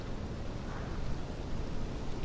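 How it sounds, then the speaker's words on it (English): Steady rain falling on tarmac and roofs at an airport on Ibiza in Microsoft Flight Simulator 2020, a dense, even hiss with no voices over it. "Do we see the rain bouncing over here?"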